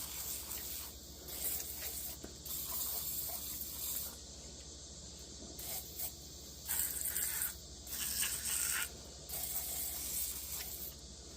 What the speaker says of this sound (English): I'm going to spray some PB Blasters in the cylinders.